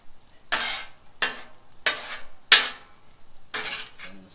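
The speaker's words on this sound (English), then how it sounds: "Mix it with the shrimp." Shrimp, pasta and broccoli are stirred together on a Blackstone griddle, with five distinct scraping, clattering strokes of a spatula against the hot metal at an uneven pace, close and fairly loud, with no talking.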